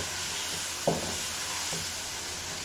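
Sliced onions hitting hot oil with chicken keema in a pan: a steady loud sizzle and hiss throughout, with a soft clunk of stirring near the start and another lighter one shortly after, no voices.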